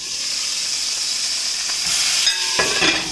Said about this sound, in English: So we're browning the chicken.